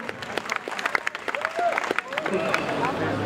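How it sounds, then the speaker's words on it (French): A crowd claps and cheers in a dense, lively burst while voices call out over the applause. "On applaudit encore bien fort Machi et Co."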